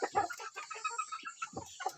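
Wild junglefowl clucking in a forest trapping area, a run of short, repeated clucks in an uneven rhythm, fairly close and moderately loud, with no talking.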